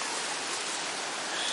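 A small mountain stream runs near a waterfall in Córdoba. Its water hisses and trickles in a steady, close wash with no breaks and no voices.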